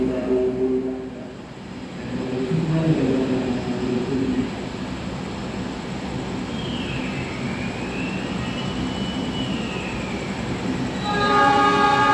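KA Turangga panoramic train pulling out of Jombang station at night, a steady loud rolling rumble with horn-like tones at the start and end and a faint rising whine in the middle.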